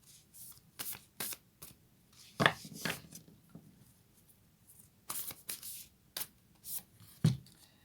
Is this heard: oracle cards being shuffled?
yes